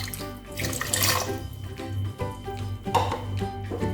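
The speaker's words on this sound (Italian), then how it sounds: "Sul fornello ho messo la pentola con lo zucchero, aggiungo l'acqua" Water poured into a pot of sugar on a stovetop, a steady close splashing stream with brief clinks of the pot, alone without voices.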